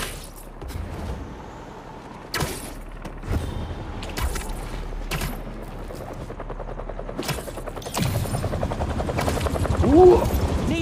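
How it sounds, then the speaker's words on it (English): Helicopter rotor blades in the Marvel's Spider-Man video game over New York, a steady rumbling mechanical thrum with intermittent loud bursts of action sound, growing louder toward the end. "Ooh, helicopter's blades."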